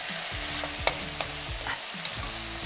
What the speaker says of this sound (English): and give it another mix.